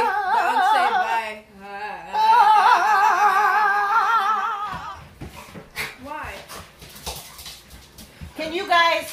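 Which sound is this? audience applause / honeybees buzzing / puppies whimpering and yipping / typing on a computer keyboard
puppies whimpering and yipping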